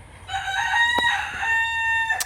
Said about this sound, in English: listen to my chickens. I'm telling you, they're the noisiest chickens that I know.